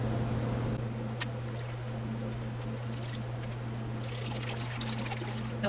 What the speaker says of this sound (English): we're just going to keep adding this slowly, whisking it in after each addition.